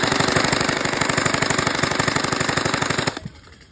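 Rapid automatic gunfire from a shooting video game, a steady loud burst of evenly spaced shots lasting about three seconds before cutting off abruptly into quiet.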